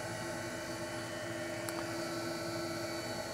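A Record Power DML320 woodturning lathe runs steadily through its speed range, a constant motor hum with a sustained whine, fairly quiet and smooth, with no voices.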